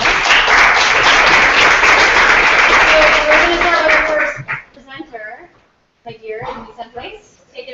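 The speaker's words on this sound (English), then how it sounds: "Good round of applause." Audience applause at a food startup pitch showcase, loud sustained clapping for about four seconds that then stops, followed by a presenter speaking.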